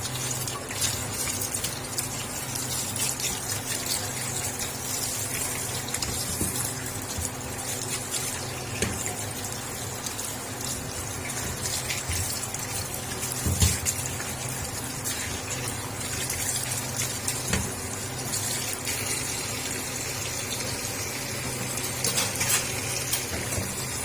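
Peeled bitter gourds being washed in water, with a steady, close wash of running and splashing water throughout and a few brief clatters, no talking.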